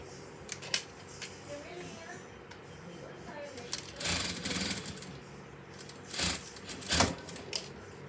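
A sewing machine stitches darts in a skirt with short bursts of rapid mechanical whirring and clatter between quieter pauses, close by, with someone talking softly in the gaps.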